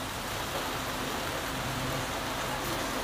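Malabar spinach (pui shak) fries in a pan with a steady, dense sizzle, like rain, that holds at an even level throughout with nothing else heard.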